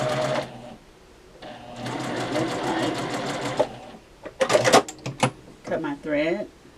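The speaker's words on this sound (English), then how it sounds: "And then I just sew them together." A sewing machine stitches Christmas table runner pieces together, running in two long steady bursts, then giving way to sharp clicks and handling noises and a brief voice near the end.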